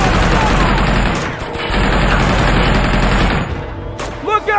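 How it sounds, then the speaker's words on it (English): Rapid, sustained automatic gunfire fills a firefight in the video game Uncharted 2: Among Thieves, loud and dense with booming bursts, easing briefly before a final scatter of shots. "Now I am shooting you."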